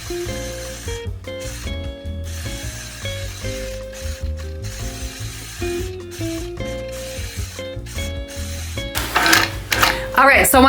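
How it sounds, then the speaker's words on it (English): A sewing machine stitches straight, evenly spaced lines for ruler quilting, a steady whirring, ratcheting mechanical run with brief pauses and a louder burst near the end, with no talk over it. "I'm going to repeat this, stitching straight lines that are all evenly spaced 1 inch apart"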